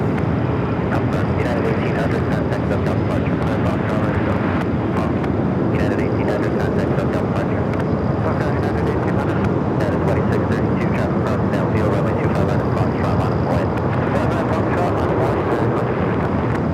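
A large airliner taxis at LAX with a loud, steady jet engine roar that fills the scene continuously and evenly, heard close up without pause.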